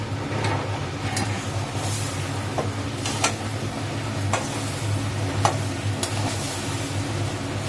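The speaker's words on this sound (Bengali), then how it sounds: "পেঁয়াজটা ঢেলে দিয়ে এবার পেঁয়াজটার সাথে ওর সাথে ভালো করে কষাবে।" Onions stirred and fried in a pan for a home-cooked rainy-day meal, a continuous sizzle under a low steady hum with repeated sharp spatula scrapes and taps at irregular intervals, no talk.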